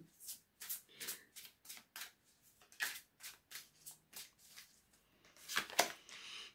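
Tarot cards are shuffled by hand in a quiet room, a string of soft, crisp riffling bursts in an uneven rhythm, close and faint, ending with a slightly louder flurry.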